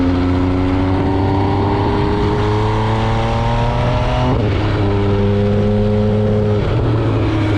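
A 2020 MV Agusta Brutale 800RC motorcycle riding and accelerating on back roads, the engine note climbing through gears with a shift midway, loud and close with wind roar and no talk.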